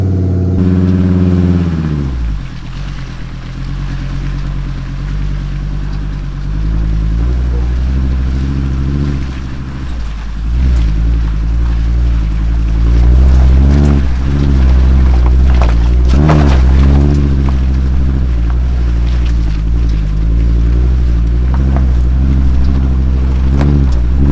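A heavy 3.5-ton camper van climbs a hill, its engine droning low and steady close by, the pitch rising and falling as it labours upward, with brief voices over the motor.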